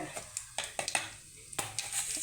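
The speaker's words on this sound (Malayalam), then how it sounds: "കടുക് പൊട്ടി" Faint, scattered pops and crackles in hot oil, with a few sharp spits over a quiet sizzle.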